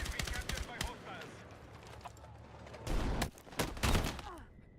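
Turret gunfire in the Battlefield 6 beta: a quick rattling burst opens, then quieter game sounds, then heavier bursts of automatic fire near the end, moderately loud against a low background.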